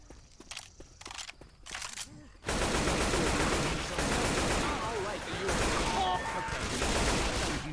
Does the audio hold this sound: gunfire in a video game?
yes